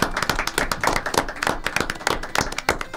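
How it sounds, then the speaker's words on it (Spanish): Dense audience applause at a short-story contest awards session, many hands clapping close and steady throughout. "un aplauso de todos acá para todos"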